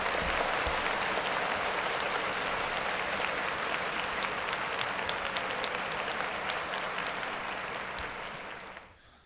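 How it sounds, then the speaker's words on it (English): Sustained applause from a crowd, dense and steady clapping that holds for several seconds and then tapers off to silence. "Clap it up for the Kush zone."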